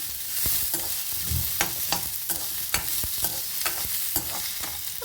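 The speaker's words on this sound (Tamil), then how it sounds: "இந்த பூண்டு பல்லையும் நான் இதன் கூடயே போட்டு வதக்குறேன்" Green chillies and garlic cloves sauté in a pan with a steady sizzle, broken by regular sharp scrapes and taps of a stirring spoon, close and clear.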